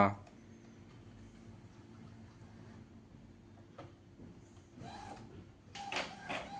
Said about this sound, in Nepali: अब हाम्रो प्रिन्ट भएर आइहाल्छ।